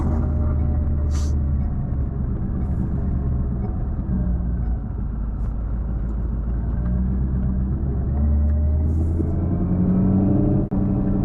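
Steady low engine rumble from a supercharged car with a rebuilt Stage 3 RSA 10R80 transmission, heard from inside while driving, a constant drone with a brief sharp click near the end.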